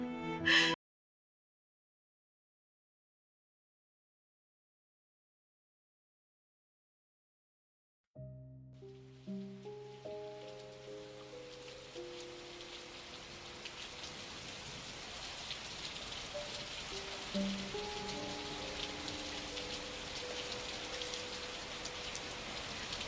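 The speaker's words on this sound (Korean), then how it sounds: "창문을 두드리는 빗소리가 마치 누군가의 울음처럼 들렸습니다" Rain falls steadily at night with a dense hiss of drops tapping a window, alone and fairly soft, starting after a short silence.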